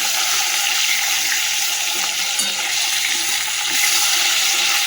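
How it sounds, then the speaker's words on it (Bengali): Pieces of fish frying in hot oil in a pan give off a loud, steady, dense sizzle that runs unbroken from start to finish, with no talking. "বাকিটা আবার ভেজে তুলে নিই, ভাজি"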